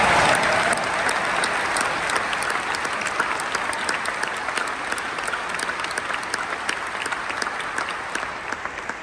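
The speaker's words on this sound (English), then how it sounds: "So how about the applause for Mama Rock?" A large crowd claps in sustained, dense applause that fades slightly over several seconds, with no voices standing out.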